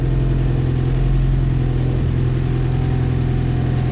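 Suzuki Samurai diesel with an upgraded 4.9:1 transfer case, driving as its engine holds a steady loud drone and rises in a gentle rev, heard close with continuous mechanical hum and no talk.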